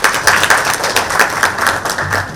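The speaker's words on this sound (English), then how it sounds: "a round of applause for yourself" A room full of people at a fintech panel applauds, a dense burst of many hands clapping at close range that continues steadily for about two seconds without talk.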